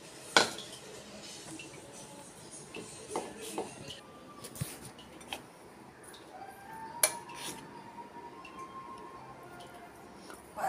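Sugar is stirred into rava (semolina) puttu in a pan on the heat: a spoon makes intermittent, fairly quiet scrapes and sharp metallic clinks against the pan, with no talk.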